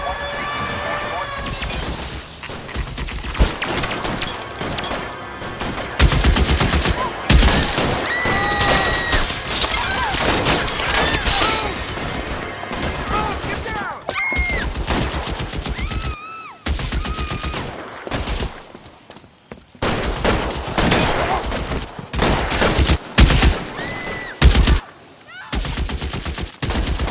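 Rapid gunfire and bursts of shots during a police shootout in L.A. Noire, loud and repeated, with shattering and clatter, interleaved with radio dispatch voices and shouted talk.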